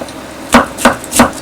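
Three crisp, evenly spaced knife chops on a cutting board, claw-method cutting of food, close and loud with nothing else around them.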